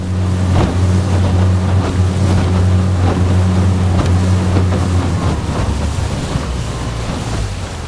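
A skiff motorboat runs at full throttle through moderate water chop in 14 mph winds, its steady engine drone loud and continuous under splashing hull slaps and wind noise.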